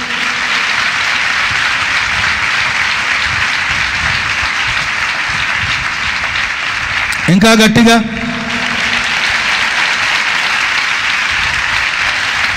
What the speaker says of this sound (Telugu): హుషారుగా చప్పట్లు కొట్టండి